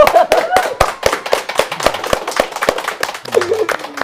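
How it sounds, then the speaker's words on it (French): Scattered hand claps at a live smartphone giveaway for a contest winner, sparse and uneven rather than a full ovation, with a host's voice talking over them. "Applaudissements s'il vous plaît pour Landry B."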